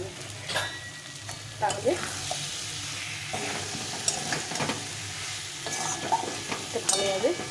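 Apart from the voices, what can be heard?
spices being sautéed and stirred in a pan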